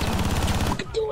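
Rapid automatic gunfire from Rainbow Six Siege, a dense burst of loud repeated shots lasting under a second before cutting off, with a voice faintly underneath.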